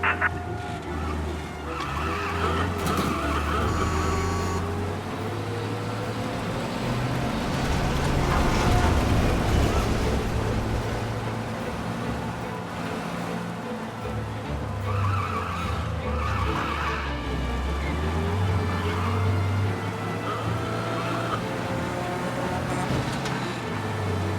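Car engines roar at high speed with tires squealing and skidding throughout, a continuous fast police chase in the video game Mafia: Definitive Edition with shifting engine pitch.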